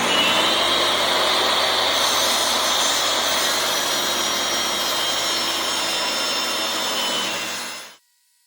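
Power saw trimming the edges of a wooden thwart for a Snark Sunflower boat, a loud, steady whining cut that runs continuously for about eight seconds and then stops abruptly into silence, with no speech.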